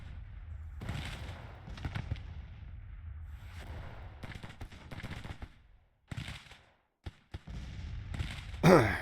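Musket volleys in the Civil War strategy game Grand Tactician, a ragged series of distant crackling shots and rolling bursts of fire, with brief lulls between them.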